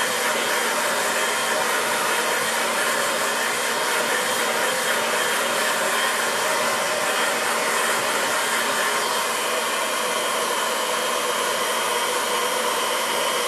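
Hair dryer blowing on a wet watercolour painting, a loud, steady whooshing roar held close and unbroken throughout, with no talk.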